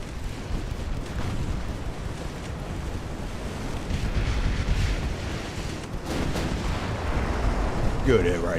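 Naval gunfire and shell hits in the warship battle game Ultimate Admiral: Dreadnoughts, with rumbling, surf-like broadband roars that swell and recede, heavier bursts around the middle and near the end, under a continuous wash of noise.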